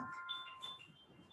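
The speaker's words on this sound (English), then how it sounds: "I can hear my alarm going off." A quiet alarm going off indoors during a yoga class, a few thin high electronic beeps repeating in a short irregular pattern over faint room noise.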